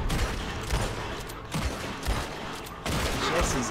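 Gunfire in the Red Dead Redemption 2 video game, a quick series of loud shots and bangs, several close together, over a dense and noisy outdoor background.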